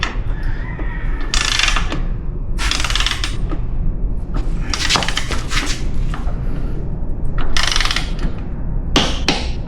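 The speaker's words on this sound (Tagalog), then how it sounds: "wrench na natin sa 44 Nm torque." A torque wrench ratchets as it tightens a frame slider bolt to 44 Nm on a 2024–2025 Kawasaki Ninja ZX6R, giving repeated bursts of sharp metallic clicking close by, several separate strokes with short pauses between them.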